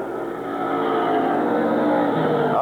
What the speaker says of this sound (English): his car is running very, very fast here this evening